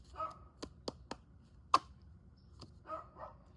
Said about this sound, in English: Yappy dogs today.